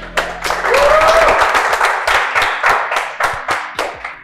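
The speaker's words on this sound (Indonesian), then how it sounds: "Tepuk tangan buat debat terakhir capres." A live audience at an Indonesian comedy mock presidential debate breaks into applause, a dense burst of clapping that thins into a steady rhythmic clap toward the end.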